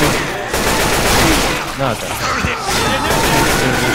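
Gunfire in the co-op video game Left 4 Dead 2 comes as dense, loud bursts of rapid shots, nearly continuous across the clip, with players' voices mixed in.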